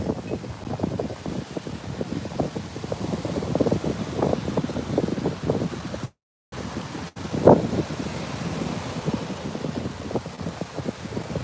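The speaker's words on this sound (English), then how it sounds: "this wind seems uncharacteristic" Steady wind buffets the microphone at sunrise on the coast in Playa del Carmen, Mexico, a continuous rushing roar with gusty swells and a brief dropout partway through.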